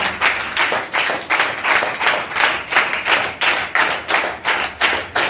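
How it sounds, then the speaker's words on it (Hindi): An audience of children at a school writing competition in Ranchi claps in a steady, rhythmic beat, roughly two to three claps per second, the crowd's hands striking together in near unison throughout. "जोरदार तालियां हो जाए प्लीज एवरीवन।"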